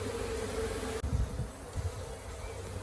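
Honeybees fan their wings inside an open colony, making a dense, steady hum close by, with a few soft knocks and handling sounds over the buzz.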